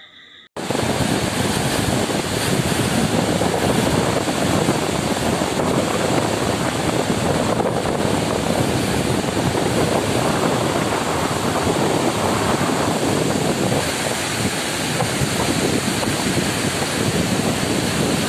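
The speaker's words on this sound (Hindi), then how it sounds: "सागर बांध का पानी छोड़ने के कारण ये नया पुल पूरी तरह डूब गया है।" Floodwater released from the Sagar dam pours over a submerged new bridge on the Bawanthadi river near Balaghat, a loud, continuous roaring rush with wind buffeting the microphone throughout.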